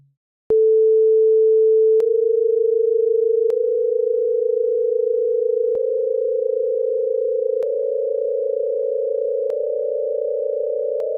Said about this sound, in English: If we listen to an ascending set of tones based on perfect frequencies for each of the 12 tones